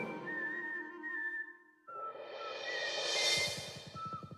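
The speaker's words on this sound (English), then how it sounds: "Just whistling a tune." A cartoon character whistles a tune, clear melodic notes sliding between pitches, followed by a brighter, busier whistled passage with a quick rhythmic patter underneath.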